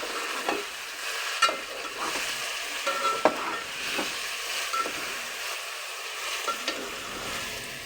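Chicken frying in a pan with cauliflower and tomatoes, a steady soft sizzle broken by intermittent clinks and scrapes of a spoon stirring.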